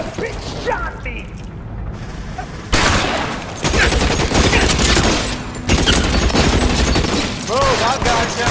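Loud bursts of video-game gunfire from L.A. Noire, with a mechanical ratcheting clatter and overlapping shots. They come in several sections split by abrupt cuts, and a voice is heard partway through.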